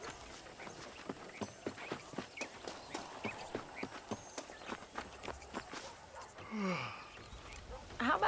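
Horse hooves clip-clop at a steady walking pace in the video game Red Dead Redemption, with a quick run of close, distinct footfalls before a brief sound near the end.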